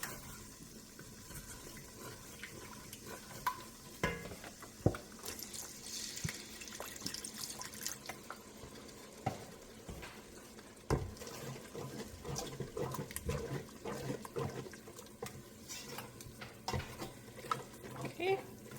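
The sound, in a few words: broth being poured and stirred into soup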